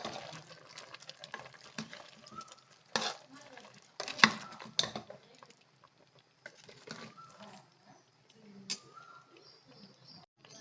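Three kilograms of country chicken being mixed for a chicken saru, with quiet, intermittent scraping, clinks and soft stirring strokes separated by short pauses.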